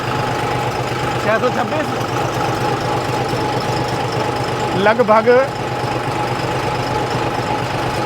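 A John Deere diesel tractor runs in third, its top gear, with a steady, rough engine drone throughout while someone talks over it close by.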